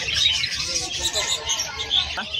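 Hagoromo parakeet hens chirp in quick, high, busy bursts at a pet market, with crowd chatter and voices underneath.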